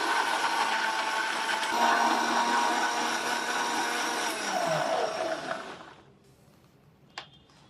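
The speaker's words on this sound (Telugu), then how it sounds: "ఈ క్యారెట్ ముక్కలు తీసుకొని దీంట్లో మనం వాటర్ యాడ్ చేసుకొని జ్యూస్ చేసుకుందాము" A kitchen blender whirs loudly, blending carrot pieces with water into juice. The steady roar holds for about five seconds, then winds down and stops, with a small clink afterward.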